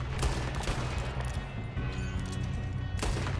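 Gunshots ring out in Red Dead Redemption 2 during a train robbery, dense loud bangs and a crashing burst layered over continuous heavy game noise.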